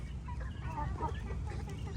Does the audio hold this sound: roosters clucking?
yes